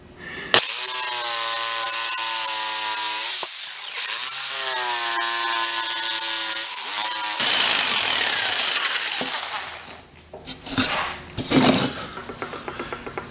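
A power saw cuts notches in wood for a homemade wine rack, a loud, steady, close whine in two long passes, then shorter cuts, knocks and clatter as the work is handled, with no talking.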